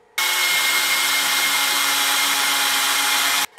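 A power drill drives a pocket screw into wood for a DIY hockey stick build, one loud, steady whirring burst lasting about three seconds that starts and stops abruptly.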